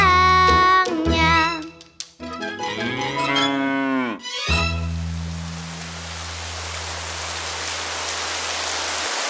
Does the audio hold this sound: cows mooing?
yes